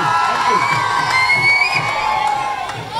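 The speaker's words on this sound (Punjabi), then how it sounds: "ਇੱਕ ਵਾਰੀ ਸਰਪੰਚ ਸਾਹਿਬ ਲਈ ਜ਼ੋਰਦਾਰ ਤਾੜੀ ਹੋਣੀ ਚਾਹੀਦੀ ਹੈ, ਰੌਲਾ ਜਿਹਾ ਪਾ ਕੇ ਸਰਪੰਚ ਦੇ ਲਈ" A village crowd cheers and whoops loudly for the sarpanch, with a dense mix of voices and shouts holding steady for a few seconds before easing slightly.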